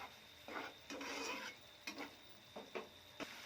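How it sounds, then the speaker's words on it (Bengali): Prawns in a mustard-poppy seed curry are stirred in a pan, faint scraping strokes coming in several short bursts, one longer sweep followed by quicker separate scrapes, over a quiet background. "এবার মাছগুলো নাড়াচাড়া করে নিলাম।"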